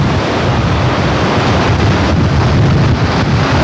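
Gale-force wind roars over the sea around a yacht, buffeting the microphone with a loud, constant rush as waves surge and break beneath it.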